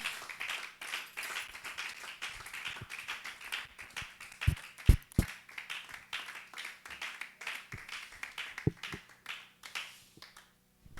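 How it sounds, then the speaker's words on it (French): A church congregation applauds as the evangelist comes forward, with steady clapping and a few louder, sharper claps near the front, a crowd of hands that rises and slowly tapers off over about ten seconds. "Quand l'évangéliste Toto s'avance, on acclame très fort pour le Seigneur."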